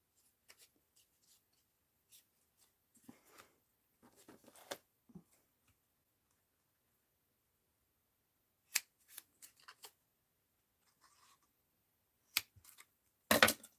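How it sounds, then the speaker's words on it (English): Knife or scissors cutting through a piece of foam in a quiet room, a few soft scraping snips and crunches in scattered bursts, close and faint, with longer silences between them. "let's cut off a piece of foam"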